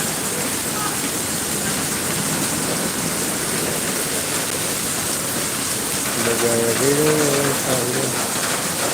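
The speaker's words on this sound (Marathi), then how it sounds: "पाऊस वगैरे जबरदस्त चालू आहे" Heavy rain pours steadily and loudly throughout, a dense hiss of drops on a surface, with a brief voice-like tone near the end.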